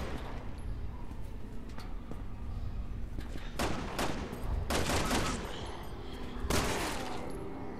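Rapid bursts of gunfire in Resident Evil 6, several loud volleys of shots clustered in the second half over a steady background rumble of game ambience.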